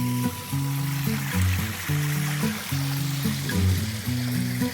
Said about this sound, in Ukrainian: Тут також рух іде води, щоб ніде не було застойних зон.